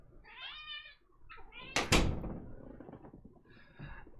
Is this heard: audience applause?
no